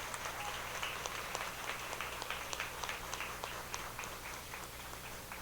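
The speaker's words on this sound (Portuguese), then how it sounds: "Eu pedi uma salva de palmas para eles" Applause from an audience at a mamulengo puppetry gathering, honoring master performers, a distant, fairly quiet patter of many hands clapping continuously for several seconds over a low room hum.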